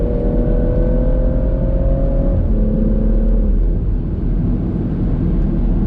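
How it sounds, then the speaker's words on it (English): A BMW 440i Gran Coupe accelerating, with a loud, steady engine drone whose pitch climbs, drops at a gear change and climbs again, heard alone and close with no talk. "you could get yourself in some trouble with this car, because this thing really picks up speed"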